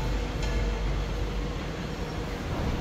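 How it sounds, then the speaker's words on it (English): A C151A metro train set arriving from Changi Depot in Singapore, a steady low rumble of wheels on rail running continuously and fairly loud throughout, with no talk. "there's a train coming the wrong way"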